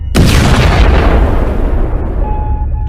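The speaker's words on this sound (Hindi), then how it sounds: "जिसके कारण एक बहुत बड़ा धमाका होता है।" A single huge firecracker blast erupts loudly in a pond, then a long rumbling roar slowly fades away, with a faint steady tone appearing near the end.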